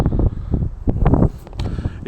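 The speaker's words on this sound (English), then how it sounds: "It's very windy." Gusty wind at an old castle beer garden buffets the microphone, producing continuous low rumbling with uneven surges across the short moment.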